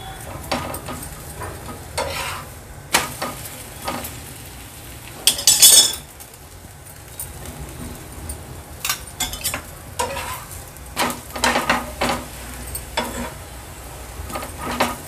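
Cheese thalipeeth frying in oil in a pan on a high-to-medium flame, a continuous soft sizzle with intermittent scraping, stirring and metallic clinks from a utensil, with one brief louder rattle midway.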